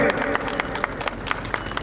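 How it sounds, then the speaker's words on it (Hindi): Applause for the Kanina team during a Parshuram Ji rally, a crowd clapping in scattered, uneven bursts with steady background chatter and noise underneath. "एक बार जोरदार तालियां बजा करके"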